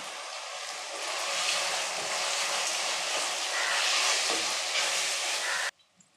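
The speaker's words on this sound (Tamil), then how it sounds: "இப்போ தக்காளி இந்த அளவுக்கு வதங்கி வந்திருக்கு" Tomatoes sprinkled with salt sauté in a pan with a steady, close, loud sizzling hiss that swells slightly in the middle and then cuts off abruptly near the end.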